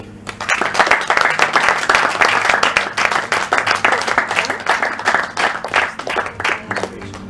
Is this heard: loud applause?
yes